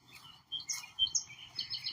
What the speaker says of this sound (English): the birds here are nice. But unfortunately, they love chirping in the middle of the night